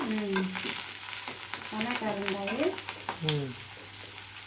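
Ginger, garlic and other ingredients sizzle steadily as they fry in a pan for a mung dal fritter curry, with a voice talking over the cooking.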